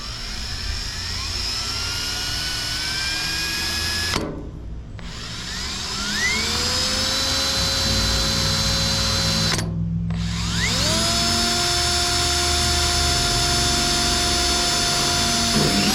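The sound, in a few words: power drill drilling holes for GMC Jimmy hood emblem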